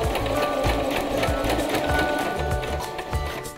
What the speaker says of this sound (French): Commencez votre couture par quelques points en marche arrière. Continuez en marche avant.